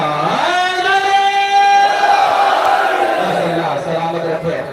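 A crowd at a mourning gathering in praise of Ghazi Abbas chants religious slogans in loud unison, a sustained swelling roar of voices that fades after a few seconds.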